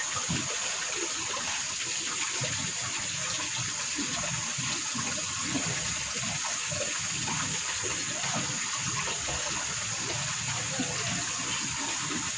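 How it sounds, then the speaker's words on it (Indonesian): Freshly caught grasshoppers are washed under running water, a steady continuous splashing rush that stays even and fairly close throughout, with no voices. "Cuci dulu teman-teman belalangnya."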